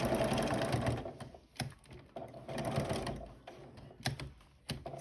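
A sewing machine stitches a pleated fabric face mask with elastic, running in several loud bursts of rapid mechanical chatter separated by brief pauses and a few sharp clicks.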